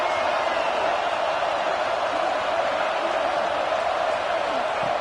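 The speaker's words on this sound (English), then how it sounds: "This crowd is trying to inspire this defense to make a big red zone stop." Stadium crowd at a Clemson vs Louisville football game roaring steadily to lift the defense before a red zone stop, a dense, continuous wash of cheering noise with no break across the whole stretch.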